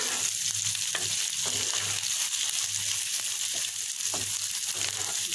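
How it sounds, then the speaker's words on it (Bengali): Steady sizzling of onions frying in a pan, with a few stirring clinks and scrapes throughout; no speech. "পেঁয়াজগুলো ভাজা হয়ে গেছে এখন নামিয়ে নেবো"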